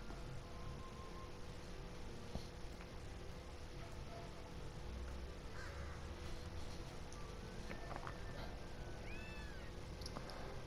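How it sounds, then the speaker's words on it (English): A crow caws a few times in the game Gravity Rush Remastered. The calls are faint and brief and sit over a steady background hum of game ambience. "Was that a crow?"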